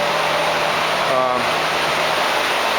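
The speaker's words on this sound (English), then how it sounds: "There's the exhaust for the boilers." Boiler exhaust roars inside the boiler house at Gracedale in Northampton County, Pennsylvania: a loud, continuous, close broadband rush with a faint steady hum beneath and a brief tonal flutter near the middle.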